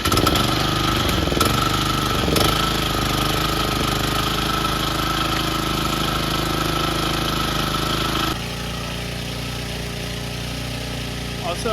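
Lawn mower engine running steadily after a start with a repaired pull cord: a loud, close, continuous mid-pitched drone that drops to a slightly lower, quieter level partway through.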